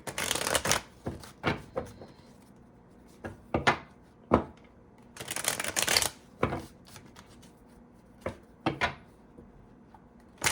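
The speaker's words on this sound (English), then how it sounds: "Want to keep shuffling." Tarot cards being shuffled up close in repeated bursts, crisp riffling and slapping sounds with brief pauses between, no voices.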